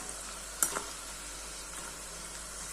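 Khari shankarpali dough pieces frying in hot oil while being turned, a low continuous sizzle with one brief stirring clatter near the start, no talking.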